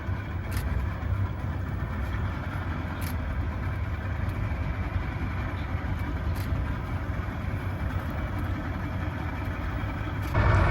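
A river safari boat's engine idling on the water in The Gambia, a steady low rumbling drone with light knocks, a little louder at the very end.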